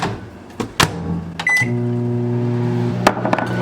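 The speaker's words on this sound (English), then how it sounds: "We're gonna microwave the frozen blueberries for about 15 seconds." Microwave oven heating frozen blueberries: a few clicks and a beep as it starts, then a steady low electric hum that runs to the end, with a couple of clunks near the close.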